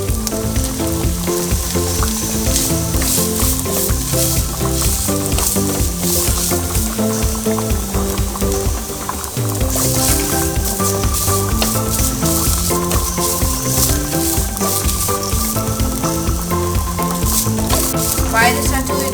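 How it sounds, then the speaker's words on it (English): Pieces of yucca and coconut fry in a pan with a loud, steady sizzle that runs throughout, with occasional stirring. "Fry this until it gets golden brown."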